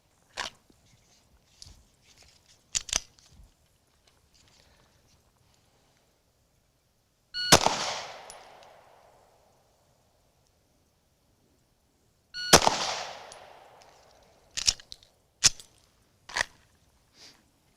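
Live pistol rounds cracking off on an outdoor shooting range during a trigger press drill: two loud, sharp reports with brief decaying tails several seconds apart, followed by a few quicker, lighter impulsive clicks and knocks.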